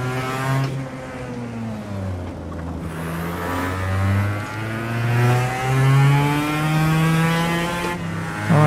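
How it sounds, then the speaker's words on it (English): A racing kart engine in the Kartkraft VR game revs up and down repeatedly, its buzzing, high-pitched note rising and falling in pitch through several throttle bursts, loud and alone. "I mean, the sound, just listen to this engine."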